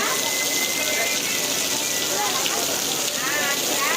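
Rain pours steadily over an outdoor Ganesh festival market selling patri leaves and idols, a dense, continuous hiss of drops hitting surfaces that stays close and loud throughout.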